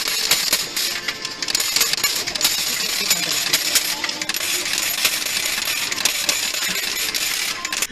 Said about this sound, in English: those coins just keep dropping